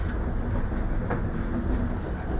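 Nanded–Tirupati special train, the Krishna Express, rolling along the line, a steady dense rumble of wheels and carriage noise with faint rhythmic clatter, close and continuous throughout.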